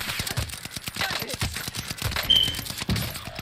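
Rapid, rattling gunfire crackles through a Call of Duty match, bursts of snappy shots at moderate distance, with a voice talking faintly over the shooting.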